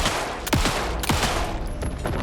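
Sniper rifle fire in the video game Alan Wake 2, two sharp loud shots about half a second apart, each followed by a descending ringing tail, over a steady ambient game rumble.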